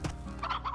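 Hen-hens, the chicken-like birds of Slime Rancher, cluck and gobble in a quick, close burst of a few calls over a low background hum.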